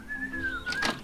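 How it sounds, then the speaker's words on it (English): A gardener character whistles in the point-and-click video game So Blonde, a single sustained, gently wavering tone that holds steady for about a second at moderate loudness, with no talk over it. "Your whistling is distracting me from my work."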